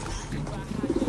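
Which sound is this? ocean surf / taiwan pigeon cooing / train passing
taiwan pigeon cooing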